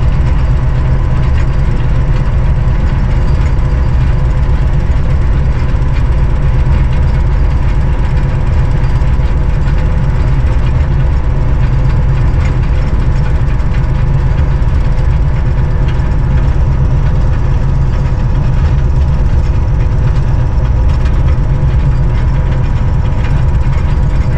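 A train's heavy diesel engine idles at Hirak railway station on the steep grade of the Bolan Pass, a loud, close, unbroken low rumble with a steady knocking throb that holds for the full stretch.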